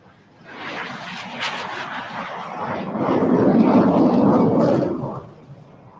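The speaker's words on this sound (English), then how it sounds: "The first three set, ladies and gentlemen, taking off right in front of you." Jet aircraft of a nine-plane aerobatic display team taking off in a group of three at the Aero India 2023 air show, a loud broadband roar swelling over several seconds before easing, with faint announcer speech.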